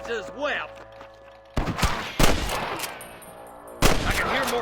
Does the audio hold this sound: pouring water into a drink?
no